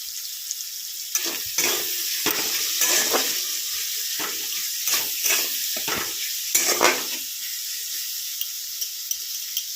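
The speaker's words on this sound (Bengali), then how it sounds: "পেঁয়াজটা হালকা করে একদম ফ্রাই করব" Onions fry in a pan for chicken curry, with a steady close sizzle broken by intermittent scraping stirs and clatter, no voices.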